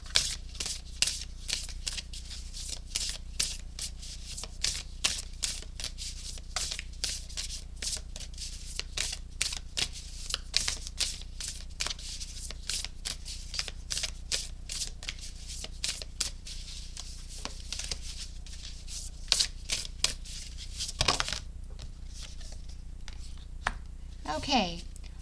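Oracle cards are shuffled by hand, with a long run of quick, crisp riffling flicks close to the microphone over a low background hum and one brief louder slap near the end.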